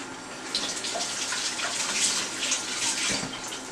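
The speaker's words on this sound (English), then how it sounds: "Wash my hands." Running tap water pours steadily into a sink as hands are washed in a home kitchen, a continuous close hiss and splash with small fluctuations and no pauses.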